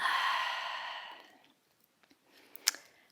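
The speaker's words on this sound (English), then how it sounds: "Take a full deep inhale and an open mouth exhale." An open-mouth exhale during yoga breathing in a vinyasa flow class, a long breathy sigh close to the microphone that fades out, followed by faint small clicks and rustles.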